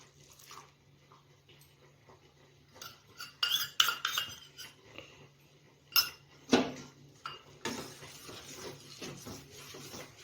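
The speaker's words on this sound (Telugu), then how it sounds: "కార్న్ స్టార్చ్ని ఈ మిల్క్లో వేసేద్దాం." A spoon clinks and scrapes in a pot while stirring cornstarch into milk for sago fruit custard, giving scattered metallic taps and swishes, louder bursts midway and a soft hum beneath.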